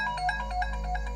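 A short burst of an electronic ringtone, a rhythmic repeating tone pattern, clear and steady.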